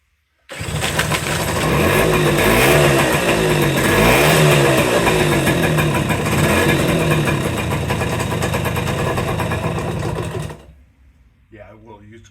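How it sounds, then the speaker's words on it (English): A 1972 Suzuki TS 50 motorcycle engine, a barn find, runs steadily at close range for about ten seconds with a buzzy, rattling tone and slight rev swells, then cuts off abruptly. Voices are heard after it stops. "It's gonna idle down with that exhaust"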